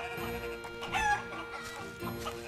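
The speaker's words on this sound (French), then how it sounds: "Ah bah voilà une poule." A hen clucks in the video game Baldo: The Guardian Owls, a short run of soft, close clucks over steady game music, with a brief louder burst near the middle.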